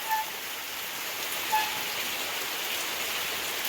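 Heavy monsoon rain with strong wind in the Konkan countryside makes a steady, dense hiss of pouring water that holds at an even loudness throughout, with no voices.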